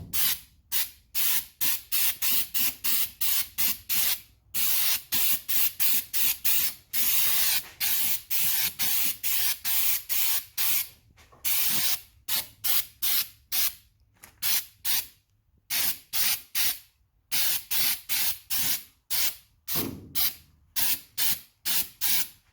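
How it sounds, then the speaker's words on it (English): Paint spray gun coating the body of a 1971 Camaro RS SS during restoration, a long series of loud hissing bursts in quick passes separated by short silent gaps. "So we're going to go ahead and spray through here."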